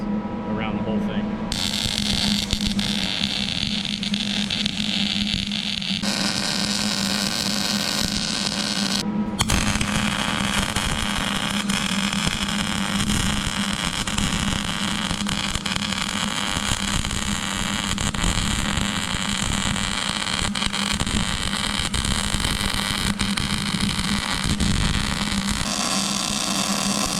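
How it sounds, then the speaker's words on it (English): A Lincoln Electric 260 Power MIG welder lays continuous solid welds around a tacked repair, a steady crackling buzz over a constant electrical hum with short breaks between beads. "I'm going to go ahead and put solid welds around the whole thing."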